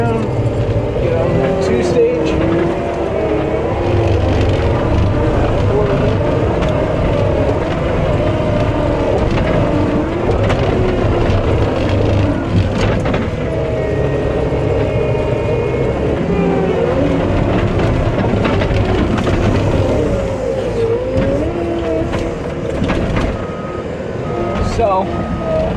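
A John Deere 333G compact track loader drives and turns, its diesel engine rumbling loudly and steadily throughout with clanking track and hydraulic noise, while someone talks over it.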